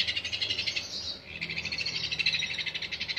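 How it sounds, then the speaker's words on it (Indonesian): A young parrot chick packed in a wooden shipping box chirps steadily in rapid, pulsing trills, close and continuous with only a brief dip, and no talk over it. "kita lihat burung paruh bengkok jenis apa yang ada di dalam sini"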